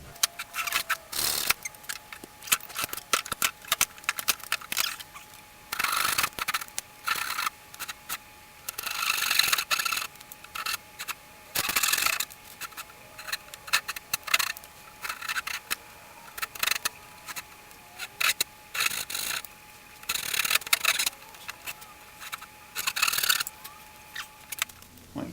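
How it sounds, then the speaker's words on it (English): Clamps come off a glued mahogany mirror frame in a workshop, a quiet run of irregular clicks, scrapes and metallic rattles close by with small pauses, and no one talking. "Time to remove the clamps"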